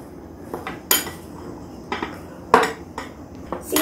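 Papdi chaat with chopped coriander being mixed in a bowl, heard as a handful of sharp clinks and clatters of a utensil against the dish, spaced irregularly over a quiet background.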